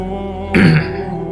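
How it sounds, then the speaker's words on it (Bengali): A single short, deliberate cough, demonstrated by a man as a polite signal to someone inside a washroom, one close, loud burst over a quiet room hum. "এরকম কাশি দিবেন"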